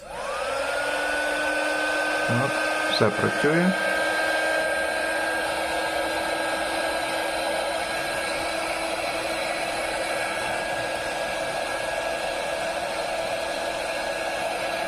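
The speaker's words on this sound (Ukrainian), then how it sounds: "Зараз включу, в мене є такий паяльний фен." A hot air soldering gun drawing about 272 W from a Yoobao EN300 power station starts up and runs with a steady, loud whooshing blower hum and high whine, with a brief clatter near the start and a few short words.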